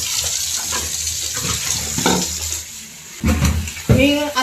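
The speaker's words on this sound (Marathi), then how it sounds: "बॉटल वॉश केल्यात आणि तो आता चांगलं पाणी पिण्यासाठी भरणार आहे." Water running from a tap into washed bottles for drinking, splashing and gurgling in bursts with rising filling tones near the end, alongside some clatter and background voices.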